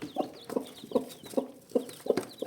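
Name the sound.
chickens clucking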